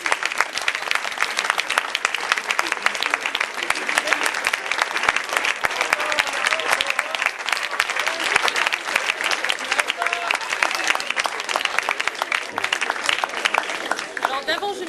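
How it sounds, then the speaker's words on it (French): Loud, dense applause fills the room as candidates walk in for a student debate contest, a continuous crackle of many hands with brief individual claps poking through, sustained for about fifteen seconds. "on va faire entrer les candidats, s'il vous plaît. Que je vous demande d'applaudir."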